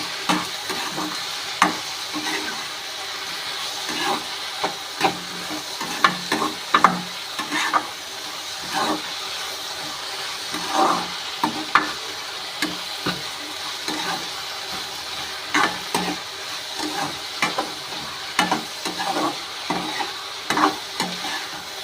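Tomatoes for a coriander mint chutney sauté in a pan while being stirred, giving a continuous soft sizzle broken by frequent scraping, clattering strokes of the spoon at an irregular rhythm.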